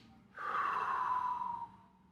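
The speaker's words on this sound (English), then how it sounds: "you have 2 quick breaths in through your nostril and then breathe out slowly" A person breathes through the nose as a calming exercise, giving one sharp breath in followed by a long, steady outward breath that fades away.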